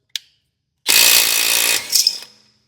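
A 12-volt cordless power tool, likely an impact wrench, runs in a single loud burst of about a second, trails off into a few quick final revs and stops, while new struts go onto an Acura TL. A short click comes just before it.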